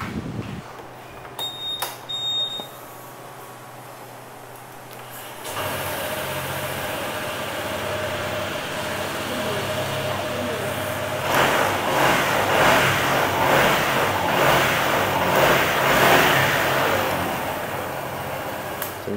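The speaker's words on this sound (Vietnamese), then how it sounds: "Mình nổ máy chút xíu nha." A 2021 Honda SH150i ABS scooter engine fires up after a few faint clicks, then settles into a steady idle and rises with brief revs, loud and close with no talking.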